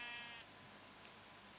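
A single short sheep bleat from a video game, faint and quickly fading into a low background hiss.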